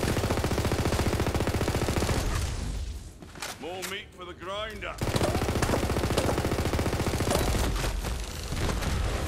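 Heavy automatic gunfire in the fantasy shooter game Tiny Tina's Wonderlands, loud and continuous with a brief lull in the middle where a voice speaks, then firing resumes.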